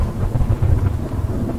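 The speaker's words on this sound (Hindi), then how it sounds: "ये बिजली कड़क रही है" Deep, rumbling thunder rolls through a storm in the video game Choo Choo Charles, a low continuous growl lasting a couple of seconds with no voices over it.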